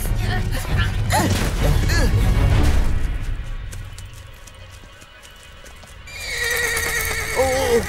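A frightened horse in an animated film whinnies loudly and its hooves clatter, with a voice heard near the start and the neighing returning near the end over a background of action sounds.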